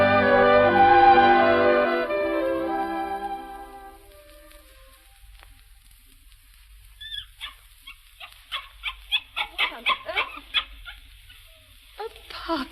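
A puppy yips in a 1940 radio drama. A sustained musical passage fades first, then a quick run of sharp, high little barks comes close and clear, with short gaps between them.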